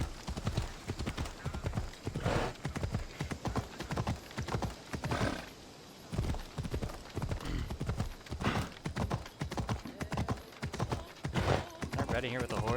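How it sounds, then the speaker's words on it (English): Horse hooves clip-clop as a rider travels on horseback in the video game Assassin's Creed Odyssey, a repeated hoofbeat rhythm mixed with game sounds and someone talking over it for most of the stretch. "I'm riding here with a horse."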